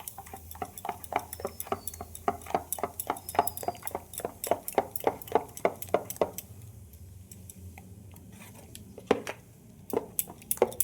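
A spoon clinks rhythmically against a bowl while green cheese idli batter is stirred together with Eno and a splash of water, a rapid series of close, bright taps that briefly slows before resuming.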